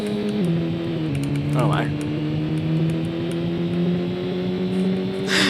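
Race cars in the racing mini game of the video game Shortventure 3: continuous engine hum with shifting pitch as the cars accelerate, a brief exclamation from a person partway through.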